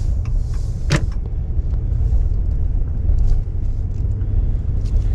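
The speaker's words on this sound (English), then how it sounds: "Traffic's pretty heavy today, as you can see." Steady road traffic on a waterfront street in Bar Harbor, Maine, on a winter day: a continuous low engine rumble from passing cars, with one brief sharp sound near the first second.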